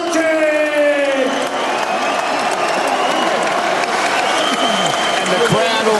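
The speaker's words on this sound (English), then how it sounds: "And the crowd almost stands as one out of respect for Krzysztof Wlodarczyk." Boxing crowd at a world cruiserweight title fight applauding and cheering the champion, a loud continuous roar of clapping and shouts from a large arena audience, with no talk over it.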